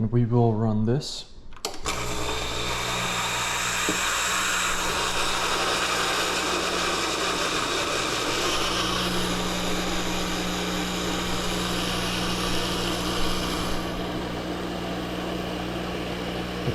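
A Breville Barista Express espresso machine with a leaking gasket runs after a short rising electronic beep, its pump giving a loud, steady droning hum and buzz that holds unbroken for over ten seconds.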